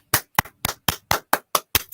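Eight sharp hand claps in a steady, fairly quick rhythm, each one crisp and close with nothing else around it.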